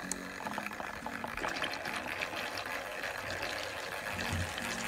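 Water splashes and swishes steadily as a makeup brush and beauty blender are rinsed in a basin of clean water, a soft, close, continuous liquid sloshing with no talk.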